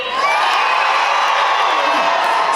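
A convention crowd at a K-pop Demon Hunters panel cheers and shouts in a dense, steady wash of voices, loud and continuous, with a lone voice briefly audible within the noise.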